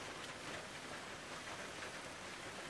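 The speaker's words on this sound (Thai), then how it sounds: "ฝนยังตกอยู่" Steady rain falls during a storm in Thailand, a dense, even hiss that stays constant from start to finish with no voices.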